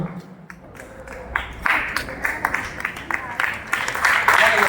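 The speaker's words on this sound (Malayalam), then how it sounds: "നന്നായിട്ട് കൈയടിച്ചു." Applause from the audience at a school award ceremony: scattered clapping that grows denser and louder over a few seconds, mixed with voices.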